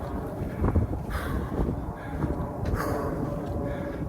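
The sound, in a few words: wind blowing outdoors during a hike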